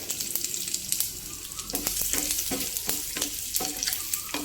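Mustard seeds, cumin and dried red chillies sizzle in hot oil for a tempering, a constant crackling fry with sharp pops and spoon stirring scrapes, close and without talk.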